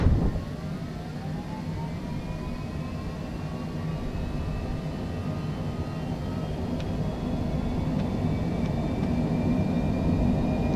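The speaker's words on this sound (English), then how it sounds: "And let's do a rolling takeoff." A Citation Longitude business jet in Microsoft Flight Simulator rolls into its takeoff, engines holding a loud, steady roar with a rising whine that builds gradually over several seconds, no voices over it.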